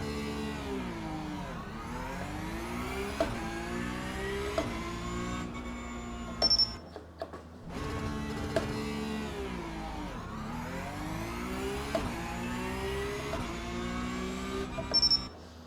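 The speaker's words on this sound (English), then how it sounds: "So you just saw a couple of standing starts with my dual clutch paddles" A race car in the iRacing sim makes standing starts on dual clutch paddles. The engine revs up through repeated rising gear sweeps, drops off, then launches again in a second, near-identical run.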